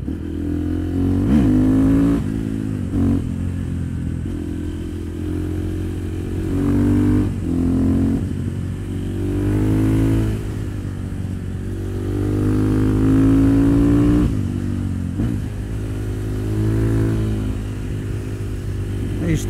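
A KTM supermotard motorcycle engine revs and drops repeatedly while riding, with rising and falling pitch sweeps over a steady low drone, moderately loud throughout.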